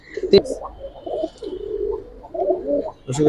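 Gribaz and colored pigeons give soft, low, rolling coos close by, a few overlapping calls that rise and fade, with a sharp thump or flutter near the start and another near the end.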